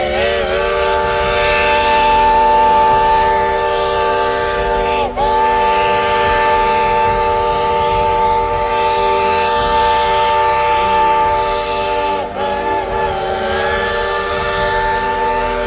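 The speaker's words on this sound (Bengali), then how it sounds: "বাহ, স্টিম ইঞ্জিনের বাঁশির আওয়াজটা দারুণ, অনেকটা গান শোনার মতো।" Steam engine train whistle blowing loud and close, a sustained harmonic chord that holds for many seconds with two brief breaks and a slight pitch bend near the end.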